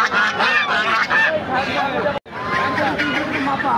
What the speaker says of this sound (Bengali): এখানে মুরগির হাট, মুরগি হাঁস সব কিছু দেখুন